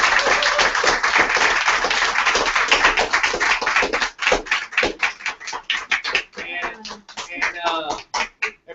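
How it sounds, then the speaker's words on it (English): Applause and cheering from the audience at a team event, loud and dense at first, then breaking into scattered claps with voices calling out over them. "y'all give them a round of applause."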